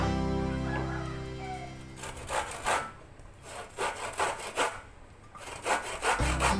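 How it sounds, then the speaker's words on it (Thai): A hand saw rasps through wood in steady back-and-forth strokes, close and rhythmic, following a brief stretch of background humming. "เดี๋ยวจะมาตัดไม้ให้ดูนะนนะครับ"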